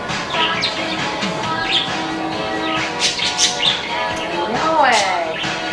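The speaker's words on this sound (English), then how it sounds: "Berto, you're the birdoest bird in the world" A pet bird chirps and tweets in short, bright calls close by, with a rising squawky call near the end, as a person talks warmly to it over the top.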